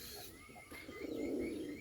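A Bombay pigeon coos in a low, throaty, building rumble that swells louder toward the end, with faint higher chirps from other birds in the background.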